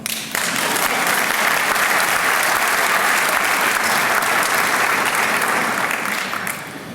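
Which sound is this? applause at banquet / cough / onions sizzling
applause at banquet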